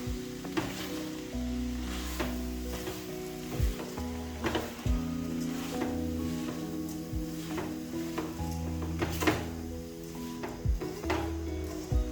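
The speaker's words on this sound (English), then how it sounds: "I'm going to mix this." A spoon scrapes through rice and beans simmering in a single pot, with repeated stirring strokes over a soft bubbling sizzle and occasional knocks against the pot.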